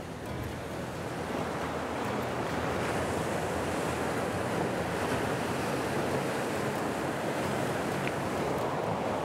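Fast current of the Kenai River rushes steadily and loudly, a constant broadband wash of water with wind buffeting the microphone throughout, no voices.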